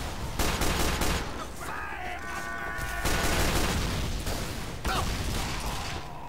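Gunfire in a Team Fortress 2 match: dense bursts of shots and game effects fill the whole stretch, loud and close, with brief pauses and a weapon mechanism sound in the middle.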